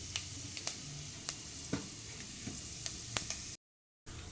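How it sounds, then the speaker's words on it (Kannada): Urad dal and mustard seeds sizzle in hot oil while tempering for plain upma: a steady close hiss broken by scattered sharp pops and crackles, with a brief drop to silence near the end. "ಸಾಸಿವೆ ಪಟ ಅಂದ ತಕ್ಷಣ ಕಡಲೆಬೇಳೆ ಉದ್ದಿನಬೇಳೆ ಹಾಕ್ಕೊಳ್ತೀನಿ."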